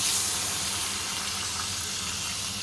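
Water pours into a pan of frying tomatoes while a small-fish curry cooks. A steady, fairly loud gushing hiss runs through the whole stretch with no voices.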